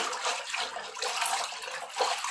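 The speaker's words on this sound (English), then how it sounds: "And I'm gonna wash mine." A stitched, pre-stamped embroidery project is washed in water with dish soap. The water splashes and swishes unevenly and close by, in a short burst with no talking.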